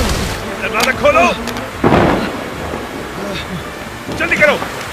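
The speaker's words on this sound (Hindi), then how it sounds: "ये तूफान कब आया?" A storm scene from a Hollywood film dubbed in Hindi, with steady rain and low thunder rumbling beneath loud voices that talk over it.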